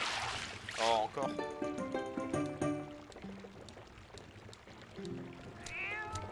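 Several meows from a cat in the video game Zelda Twilight Princess, short and fairly clear, with a person talking over and between them.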